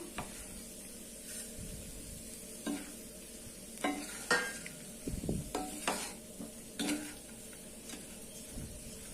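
Ground moong dal being stirred into a potato kara curry in a pan, with a soft steady sizzle under repeated scraping and clinking strokes of a spoon, close and fairly quiet, no talking.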